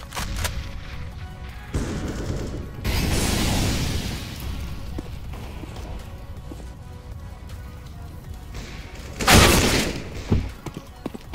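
A grenade explodes in CS:GO with a heavy boom, set among scattered game gunfire and rumbling impacts, and a second loud blast comes near the end.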